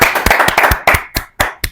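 Hand claps ring out close and loud, at first quick and overlapping, then slowing to about six separate, sharp claps spaced evenly apart.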